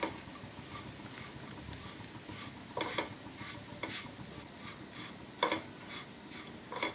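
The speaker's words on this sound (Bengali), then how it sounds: "পাউরুটিগুলো দিয়ে একটু ভেজে নেব।" Bread slices frying in oil or butter in a pan make a soft, steady sizzle, broken by a few scraping, clinking stirs near the middle and toward the end.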